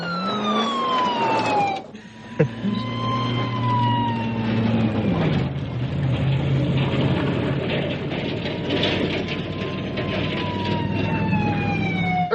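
Police sirens in pursuit from the film First Blood wail loudly and continuously with rising and falling tones, backed by a rumbling truck engine and a brief sharp bang early on.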